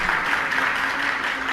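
An audience clapping for a young girl at a religious discourse hall, a dense steady burst of applause from many hands, fairly loud and continuous without speech.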